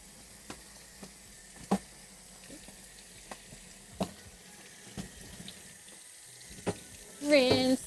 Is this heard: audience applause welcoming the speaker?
no